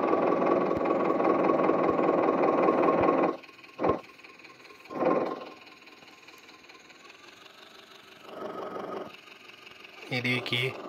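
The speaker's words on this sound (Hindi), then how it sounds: "ये देखिए दोस्तों पूरी तरफ से ट्रैक्टर" A farm tractor engine runs loud and steady for about three seconds, then drops away, leaving quieter bursts and a short clatter near the end, with talk present.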